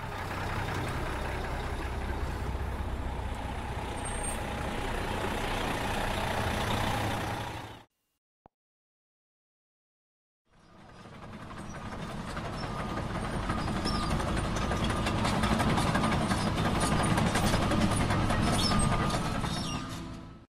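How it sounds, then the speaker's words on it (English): A dump truck engine runs steadily and loud, a droning rumble that cuts out briefly to near silence before returning just as strong. "Dump truck."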